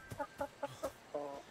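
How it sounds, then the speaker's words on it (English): A chicken in a video game clucks in four short, evenly spaced bursts followed by a longer drawn-out cluck, quiet and alone. "Oh, a chicken."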